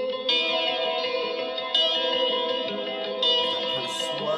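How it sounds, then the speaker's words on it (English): Guitar drenched in heavy reverb and a swirling chorus effect, sustained shimmering chords ringing out alone at moderate level, with each new strum blooming into a long washed-out tail. "the effects that are on it is a lot of reverb, hell of a lot of reverb, and sort of a chorus"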